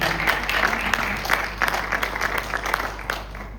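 A church congregation at an evangelical gathering applauding a pastor, with dense, sustained clapping from many hands filling the room at moderate loudness.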